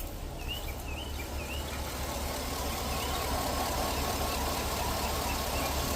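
A travel rig's engine idles in a steady, even low rumble, constant and unbroken, with faint high chirping over it.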